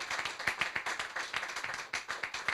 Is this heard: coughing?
no